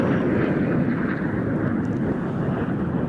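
Czech Air Force L-159A Alca jets roar steadily overhead at an airshow, a loud continuous broadband jet rumble that holds at full strength for about three seconds with no voices.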